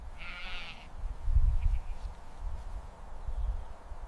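A sheep gives a single clear bleat early on, followed by low rustling and soft thumps of grazing nearby, with no voices.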